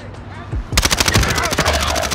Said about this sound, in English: I'm pretty sure I heard another set of gunshots.